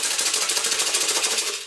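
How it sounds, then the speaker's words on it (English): A homemade shaker filled with dried chickpeas, shaken in a fast, even rhythm that makes a loud, bright, close rattle like rapid typing, with no voices. "With the dried beans, it sounds like this."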